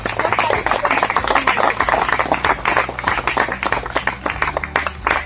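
A crowd claps for a guru at a gathering, a burst of loud, uneven hand claps close by, fading slightly toward the end.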